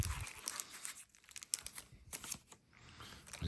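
Plastic comic book bags and boards are handled up close, giving soft crinkling and rustling with scattered sharper crackles and tearing-like scrapes.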